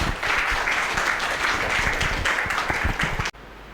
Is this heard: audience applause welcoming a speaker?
yes